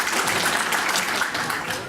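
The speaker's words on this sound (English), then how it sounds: "shall we have a round of applause?" Dense applause from an audience, a steady wash of clapping that carries through and fades slightly at the end.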